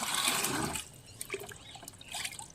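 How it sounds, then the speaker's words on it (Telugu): Water poured from a mug into a container to mix homemade organic fertilizer, a gushing pour for under a second, then scattered trickles and splashes as the water settles, close and without talk. "ఇప్పుడు ఈ ఒక మగ్గుకి మనము ఐదు మగ్గుల వాటర్ కలుపుకోవాలి"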